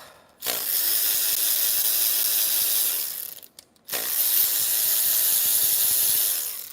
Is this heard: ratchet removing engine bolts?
yes